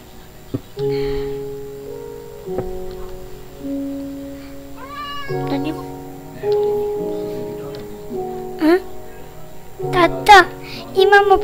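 A cat meows repeatedly in Minecraft, short rising cries scattered over a soft tonal game melody. A voice talks in between.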